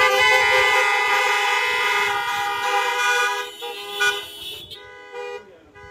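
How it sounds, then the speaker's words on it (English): Car horns from parked cars at an outdoor drive-in worship service honk together in a loud, sustained, overlapping chorus that gradually thins out and fades. "let us have our God's peace honk"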